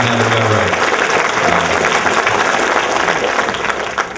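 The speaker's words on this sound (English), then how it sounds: "give him a round of applause for being willing to confess to not having done right" An audience at a Martin Luther King Jr. commemoration at Mason Temple in Memphis applauds steadily and loudly, a dense wash of clapping with a voice briefly audible at the start.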